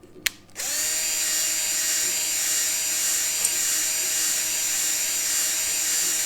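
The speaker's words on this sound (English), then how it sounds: "It may sound like my drill is going super fast, but it's actually on the lower setting." A power drill on its low setting whirs steadily at a constant pitch after a brief click and start-up, spinning a hone in a Honda CL125 motorcycle cylinder, close and loud without pause.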